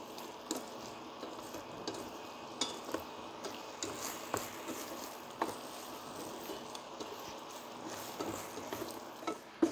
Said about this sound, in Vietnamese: Mình trộn liên tục như vậy thì đường nó sẽ bong lên, nó bám vào trong cái viên khoai lang